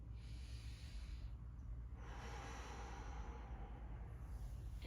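Slow, deep breathing during a yoga session, one long hissing exhale followed by a soft inhale and another breath, close and quiet.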